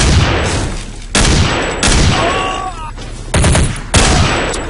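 Burst-fire gunshots in Counter-Strike: Condition Zero Deleted Scenes, four loud sharp bursts spaced about a second apart, each trailing off into ringing echo.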